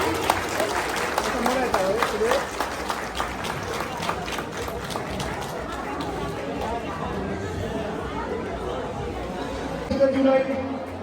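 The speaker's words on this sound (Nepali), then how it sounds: "ताली बजाउनुहोस्, तालियाँ तालियाँ।" Guests at a wedding reception clap together in a long, dense, rhythmic burst, with crowd chatter running beneath it and a brief louder swell near the end.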